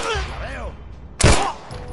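Gunfire in The Last of Us, with a loud, sharp burst at about a quarter past one second. Before it comes the voice of someone talking and a fainter thump.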